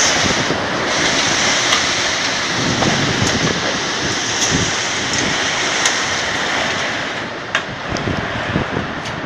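Heavy, steady roar of wind-driven rain during a tornado storm in Mishkino, Kurgan region, Russia, loud and close, with occasional gusts and spatters buffeting the microphone.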